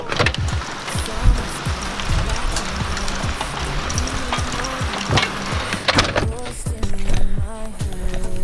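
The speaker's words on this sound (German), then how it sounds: "jetzt fängt es einfach eiskalt an zu hageln" Sudden hail after sunny weather beats down near a first-class train carriage in a dense, steady, loud patter of countless small impacts, with a few louder knocks.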